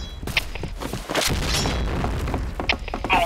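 Grenade explosion in the Point Blank online shooter: a broad, sustained boom with mechanical rattles and thuds, heavy and loud amid game effects and brief clicks, with no clear talk.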